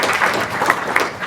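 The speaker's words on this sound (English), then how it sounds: "round of applause for that." Brief, close audience applause at a film festival Q&A, a quick patter of individual claps with a few sharp accents standing out.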